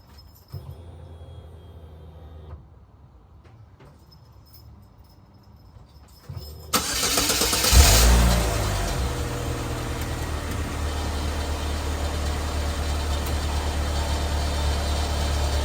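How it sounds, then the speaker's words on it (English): A Chevy Cavalier engine cranks and catches after a quiet stretch with faint crickets, roars briefly as it fires, then settles into a steady, even idle that runs on to the end. "now before we go mount this, we're going to start the car."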